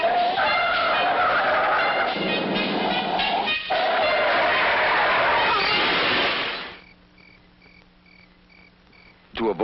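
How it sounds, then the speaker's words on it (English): Car skidding with tires squealing, a long, loud, wavering screech lasting several seconds before cutting off into quieter background tones. "I skidded, lost control, and turned over."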